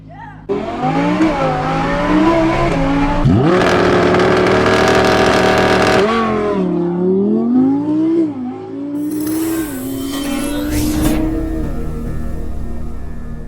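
An Audi R8 V10 with a titanium exhaust revs hard several times, its exhaust note climbing and falling in sharp bursts, with a raspy, popping tone between pulls.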